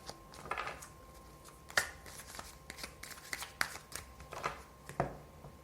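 Tarot cards being shuffled by hand, with soft riffling and sharp snapping taps at an irregular pace, close and fairly quiet with no voice.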